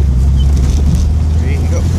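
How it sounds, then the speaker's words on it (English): A 1970 Datsun 240Z with a turbocharged L28ET engine makes a heavy, steady low roar under load in a second-gear pull, with a little wind noise over it. "Second gear pull, I did a couple of tweaks to the fuel map."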